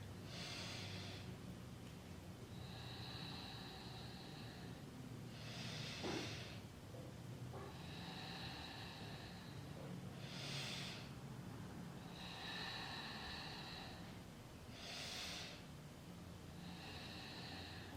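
Slow Ujjayi yoga breathing repeats steadily, about four breath cycles of soft, close, throaty hissing on each inhale and exhale over a quiet background, with no talking.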